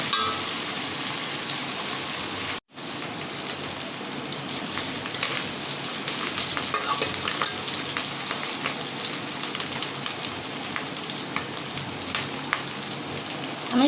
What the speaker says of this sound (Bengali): চিংড়ি মাছটা আমি লাল লাল করে ভাজি করে নেব